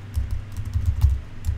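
Router configuration commands are typed on a computer keyboard, giving a quick run of soft, close key clicks over a low background hum.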